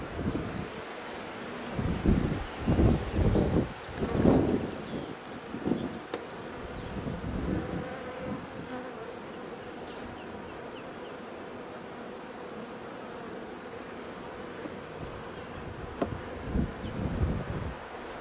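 A honey bee colony, a captured swarm in a hive, gives off a continuous low buzz of many bees with louder passes of individual bees close by, swelling in the first few seconds and again near the end.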